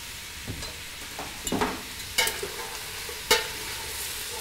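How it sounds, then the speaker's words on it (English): Carrots, celery, onions, string beans, thyme and parsley for a beef stew, searing and being tossed in a pan, with a low steady sizzle broken by a few sharp scraping tosses, quiet and close, with no voices. "Toss all the ingredients around so it all gets seared"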